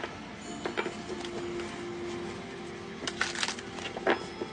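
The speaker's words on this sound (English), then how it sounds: "One more shuffle." Tarot cards being shuffled by hand during a reading, quiet riffling and a few sharper card snaps in short bursts, close but faint over low room noise.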